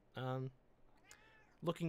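A cat meowing indoors, two drawn-out harmonic meows separated by a short pause, fairly close and clear, with a brief quiet voice between them.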